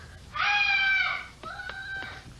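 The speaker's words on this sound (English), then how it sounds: "When you hear a scream like that, you know." A person whose clothes caught fire screams in two high, strained cries, a long sustained wail followed by a shorter broken one, loud and close with no talking.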